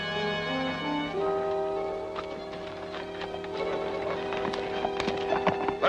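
Horses pull a stagecoach in an old Western film, their hoofbeats clip-clopping in a steady rhythm under a sustained tonal musical score that grows busier toward the end.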